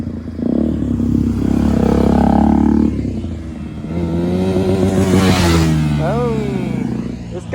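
KTM RC motorcycle exhaust revving loudly up close, a sustained high roar followed by rising and falling engine pitch sweeps, with voices talking over the bike.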